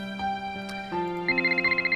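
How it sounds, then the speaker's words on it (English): A phone rings in the Nancy Drew game Secrets Can Kill Remastered, entering after a sustained tonal in-game background, then trilling in a fast, bright, pulsing electronic ring, close and clear with no talk. "Phone ringing."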